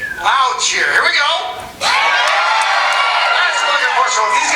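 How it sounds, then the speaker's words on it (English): Comedy show audience cheering loudly on cue, a burst of shouts and whoops that breaks briefly and then surges back into a sustained, dense roar of voices. "Loud cheer. Here we go."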